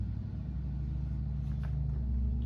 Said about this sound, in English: Got a truck going by